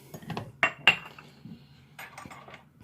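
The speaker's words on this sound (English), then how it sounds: "I'm going to use a 1/2 cup measuring cup, a 1/4 cup measuring cup." Measuring cups, a half cup and a quarter cup, clink and clatter together as they are picked up and set down, a few sharp close knocks followed by softer rattles.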